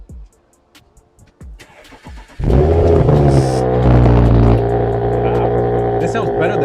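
A 2018 Audi S5 Sportback B9 with a turbo V6 sits quiet with small clicks, then cranks and fires into a loud, deep idle with a brief rev, recorded up close.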